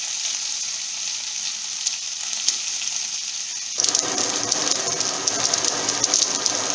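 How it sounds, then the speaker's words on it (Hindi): Carrot and cauliflower frying in a pan, a steady close hiss that grows louder and busier partway through, with faint crackles and no voices. "इसको हल्का सा रंग आने तक हम फ्राई कर लेंगे एक दो मिनट।"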